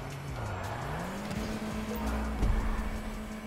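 Car engine in a racing video game, a steady revving drone rising and falling in pitch as the car drives, with a brief louder bump near the end and no skid heard.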